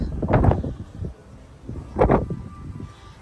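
Gusts of wind on the open deck of the Disney Wish cruise ship buffet the microphone in two loud rumbling bursts, with calmer low noise in between.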